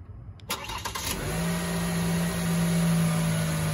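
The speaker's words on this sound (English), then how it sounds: "let's go and start the engine and let it run. This Cadillac XT5 comes with remote start." A 2021 Cadillac XT5 starting by remote start: a crank burst, then the engine catches and settles into a steady, close idle hum with no talking.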